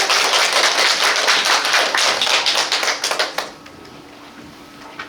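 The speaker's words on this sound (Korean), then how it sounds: "박수로 맞이하겠습니다." An audience at a speaking contest for deafblind people applauds to welcome a speaker, a dense burst of clapping that fades out after about three seconds, leaving quiet room tone.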